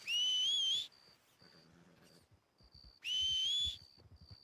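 Two loud, rising, wavering whistles in Red Dead Redemption 2, calling a horse, each lasting under a second with a pause between, over quiet game ambience with soft hoof-like thuds.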